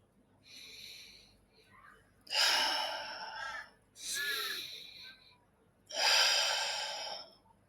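Slow, deliberate breaths taken during a guided meditation, four close audible inhale-exhale swells spaced a couple of seconds apart, airy and soft with no talking over them.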